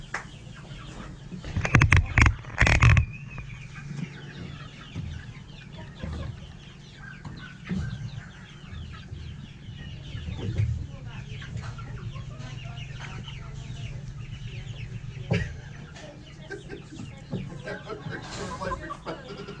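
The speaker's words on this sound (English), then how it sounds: "Now we just got to get one of the chickens." Chickens cluck nearby in a barn in bursts, with a few loud squawks early on, over a steady background hum and faint rustling.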